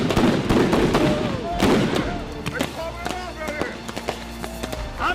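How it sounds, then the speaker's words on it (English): Rubber bullets fired at a street protest: sharp cracks and bangs ring out amid crowd noise and running footsteps, with voices shouting nearby. "Man, quit shooting at me! Quit shooting at me!"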